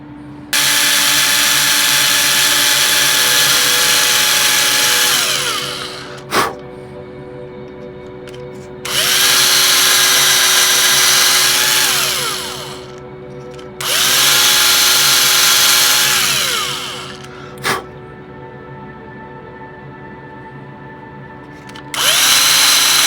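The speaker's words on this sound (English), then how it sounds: "I don't want to go too crazy with the drills" Power drill whirring in long bursts while a Revell Calypso research vessel model kit is prepped, loud and close, with about four sustained runs separated by pauses and faint clicks.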